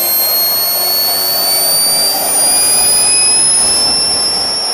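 A small jet turbine engine, burning about a third of a litre of fuel per minute and making 20 kilowatts, spools up near and loud, with a steady roar and rising high whines throughout.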